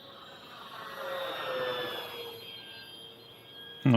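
An E-Flite Corsair 1.2m RC warplane whines steadily overhead through tight turns, its electric motor tone rising and falling as it passes fairly close, with a sharp bump at the very end.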